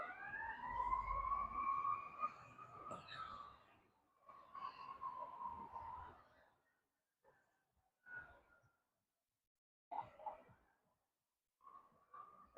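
The wailing sirens of two ambulances sweep up and down for several seconds, then break into short fading bursts as they move away.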